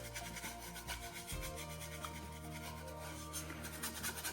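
Brush rubbing silver paint onto a base painted black, a close, quiet dry scratching and rasping that continues steadily throughout.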